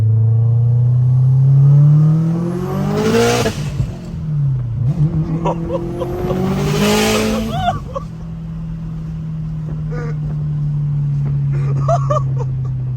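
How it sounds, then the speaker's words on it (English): A 1003 hp Subaru WRX STI with a four-cylinder engine accelerates hard through repeated gear pulls, its loud droning note sweeping up in pitch with brief shift breaks, heard from inside the car, with occasional voices. "Martin, I think this is the best sounding and fastest 4-cylinder I've ever been"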